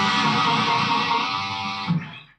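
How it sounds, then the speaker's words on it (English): Electric guitar note played through distortion with a pinch harmonic, a sustained bright squealing tone that rings loud and alone for about two seconds before a brief second pluck and quick fade. "that's called a pinch harmonic."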